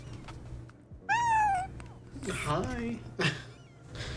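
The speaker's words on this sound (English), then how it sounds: "He likes to meow." House cat meowing nearby, a high rising-and-falling meow followed by further chatty meows and short vocal chirps, with a person speaking briefly between them.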